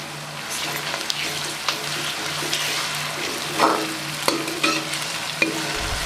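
Ginger and garlic fry in a pan with a loud, continuous close-up sizzle, broken by occasional scraping stirs and light clinks throughout.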